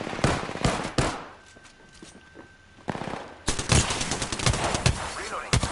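Bursts of rapid video-game gunfire from a team shooter, sharp loud volleys at the start and again in the second half, with a quieter stretch between and a faint tone underneath.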